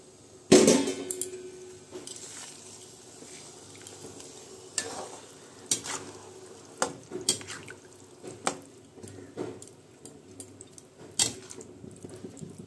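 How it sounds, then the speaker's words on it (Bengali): Water is poured into a pot of cooking dalia and dal, a splashing rush followed by irregular clinks and stirring knocks against the pot, close and fairly clear. "ভালো করে পুরোটা মিশিয়ে তারপরে আমি এবার জল দিয়ে দিচ্ছি।"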